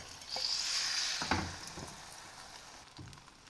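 Beaten egg frying in a little oil in a pan for a quick breakfast, a soft close sizzle that swells then fades, with a couple of faint clinks of a utensil.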